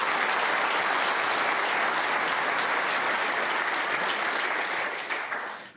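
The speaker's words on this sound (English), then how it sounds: "And listen to the crowd." A snooker crowd breaks into loud, sustained applause, dense continuous clapping from many hands that holds steady for several seconds before starting to fade at the end.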